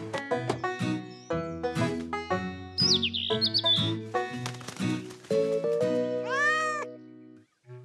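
Cartoon cat meowing while stuck up a tree, with high bird-like chirps and tweets mixed into a busy, musical cartoon soundscape; several meows and calls come in quick succession, loud and close.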